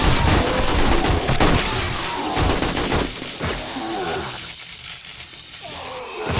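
Sustained machine gun fire with armor piercing ammo in 7 Days to Die, a loud continuous stream of rapid shots with impacts and crashes, easing off midway before a final burst.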